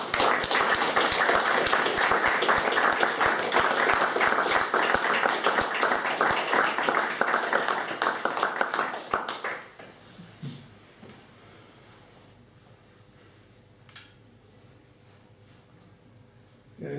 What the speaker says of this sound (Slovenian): Ploskam.